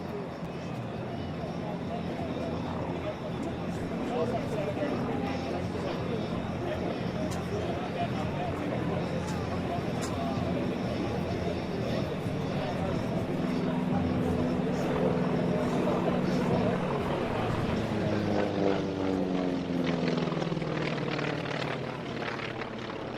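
A propeller plane powered by a Wright Cyclone R1820-89B nine-cylinder radial engine rated at 1,425 horsepower dives and loops at a Tinker AFB air show. The engine drone rises and falls steadily beneath ongoing announcer commentary.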